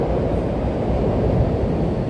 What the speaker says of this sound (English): but there's a train up there, by the way